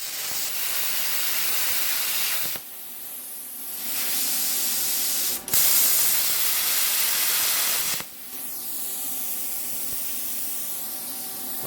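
An Everlast PowerPlasma 50s plasma cutter slicing through aluminum angle, a loud, steady hissing roar of air and arc that pauses briefly between passes, with a sharp crack at each restart.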